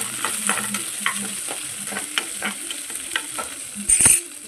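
Small onions and chana dal frying in a pan, a steady crackling sizzle broken by repeated stirring scrapes, with a brief louder clatter near the end and no voices.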